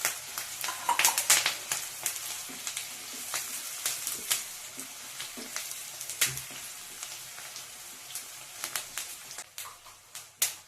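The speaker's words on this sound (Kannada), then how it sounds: "ಇವಾಗ ಈರುಳ್ಳಿ ಹಾಕೋತಾ ಇದ್ದೀನಿ." Sliced onion frying in a pan for an ivy gourd curry, with a steady close crackling sizzle and intermittent scraping stirs and taps of a spoon throughout.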